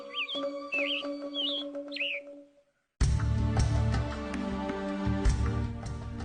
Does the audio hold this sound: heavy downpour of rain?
no